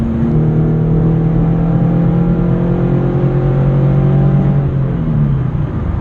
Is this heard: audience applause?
no